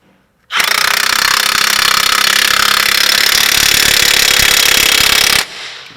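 An impact wrench tightens the front wheel bearing bolts on a GMC truck, one loud, continuous rattling burst of about five seconds that starts and stops abruptly, with no voices.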